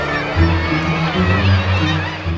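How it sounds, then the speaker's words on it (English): Young gulls cry at feeding time on a craggy Arctic cliff, a close, loud chorus of overlapping honking, wailing calls that continues without a break. "The cries of young gulls at feeding time has woken up a hungry Arctic fox"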